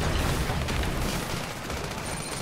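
Gunfire in the video game Sandland: a dense, continuous barrage of shots and booms, loud and unbroken throughout.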